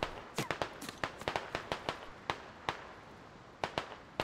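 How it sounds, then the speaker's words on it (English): AK rifle rounds fire in the video game Squad, about a dozen sharp, close cracks in an irregular, rapid sequence over faint background noise, with no voices. "Lots of AK rounds overshooting here."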